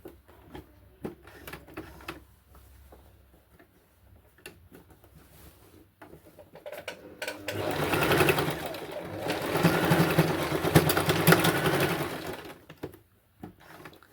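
A sewing machine stitches a chudithar pant, starting with a few scattered clicks and handling noises, then running in a loud, steady mechanical whir for about five seconds before stopping.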